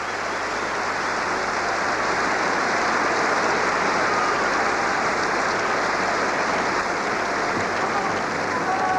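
Tennis crowd applauding a point at the 1989 Paris Bercy indoor semifinal, a dense, steady wash of clapping that fills the arena for the full stretch without letting up.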